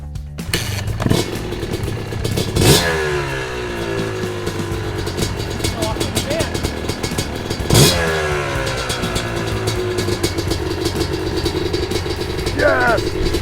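A Yamaha YZ250 two-stroke dirt bike engine runs close by in a garage, with a crackling idle broken by two sharp revs that rise and fall, then a lighter blip near the end.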